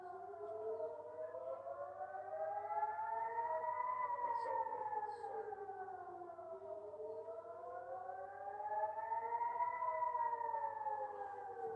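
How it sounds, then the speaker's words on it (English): Local civil defense siren wailing in the distance, a faint steady tone slowly rising and falling in two long cycles, heard alone without talk. "That's our local siren."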